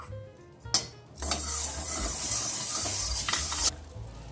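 Butter hitting a hot pan for Hyderabadi bagara rice, with a couple of metallic clinks first and then a sudden loud sizzle and hiss that holds for a few seconds before cutting off.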